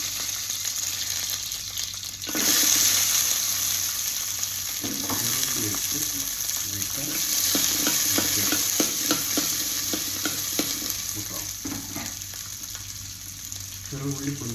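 Fenugreek seeds sizzle and crackle in hot oil, a steady close frying hiss with scattered pops and a few stirring scrapes, running on without talk.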